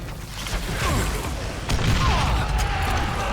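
Video-game gunfire and explosions from the Western shooter Call of Juarez: Gunslinger crackle and boom steadily under a dense, busy mix, with a brief swelling whine late in the burst.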